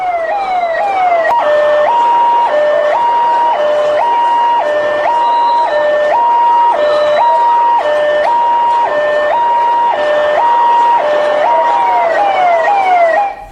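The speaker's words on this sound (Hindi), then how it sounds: "इस भीड़ में सोचिए जब एम्बुलेंस आ गई" A loud two-tone ambulance siren alternates steadily between high and low pitches as it passes through the crowd at the Jagannath Rath Yatra in Puri, continuous and close, with no talking, cutting off abruptly at the end.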